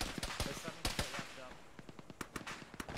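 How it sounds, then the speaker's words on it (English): Gunfire in the military video game Arma during a ShackTac session, a string of sharp shots and bursts at varying distances, some close and loud, others fainter, irregular and continuous. "Careful, we're taking direct fire here."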